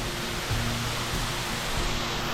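A waterfall in a rainforest, reached by mountain bike, gives a steady, loud, close roar of falling water with no break.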